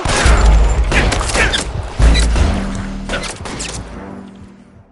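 Loud, close gunfire bursts in Grand Theft Auto, two heavy volleys about two seconds apart with rattling shots between, the noise fading out toward the end.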